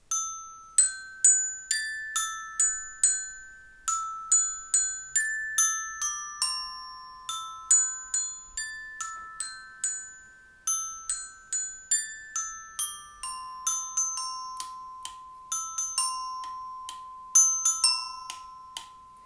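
Bright, plinking, music-box-like notes in a bouncy, repeating melody of the children's song I'm a Nut, each note sharp and quickly fading, light and clear with no voices.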